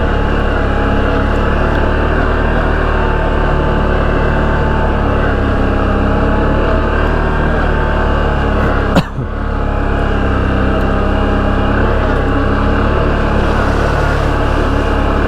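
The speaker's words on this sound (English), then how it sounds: "love the sound of that tire rubbing" A snowmobile riding a groomed Vermont trail with a tire rubbing, heard as a steady, loud low engine drone and a continuous grinding hum, with one brief sharp knock near the middle.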